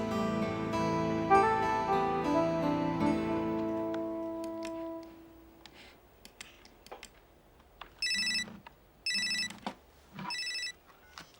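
A telephone rings late at night for an incoming call, three distinct trilling bursts sounding near and clear after fading music, in a quiet room.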